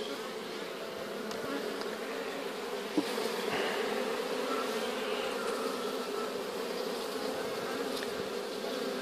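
Dense, continuous buzzing of many honeybee drones close by in a drone-laying colony, a steady droning swarm with no pauses.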